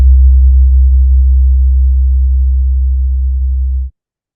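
Image data turned into sound plays as a steady, loud low hum modulated up to 65 hertz, with a faint flickering texture above it. It holds for about four seconds, then cuts off abruptly.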